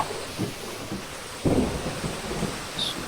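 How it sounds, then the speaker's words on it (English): Rolling thunder with steady rain pattering on surfaces in the Amalgamation video game, a low distant rumble swelling to a louder crack midway, with no voices over it. "Oh, hey, it's thunder. I heard that."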